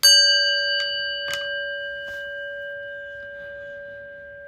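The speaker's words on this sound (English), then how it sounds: "we ring the little trusty, rusty prayer bell" A small, rusty prayer bell is struck once, its clear ringing tone sustained and slowly decaying in a quiet room, with a few faint soft knocks around it.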